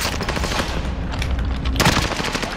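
Rapid automatic gunfire from a video game shooter, a dense loud burst of shots running nearly continuously, with a sharper crack near the end.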